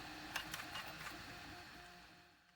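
A 3D printer fitted with a direct pellet extruder runs in quick bursts of soft clicking and whirring motor movement, close and quiet, fading slightly toward the end.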